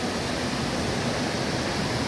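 Steady broadband rush of Agbalala Falls, a waterfall, a dense continuous roar without breaks.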